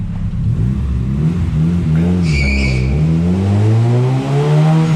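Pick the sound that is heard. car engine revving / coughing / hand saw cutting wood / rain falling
car engine revving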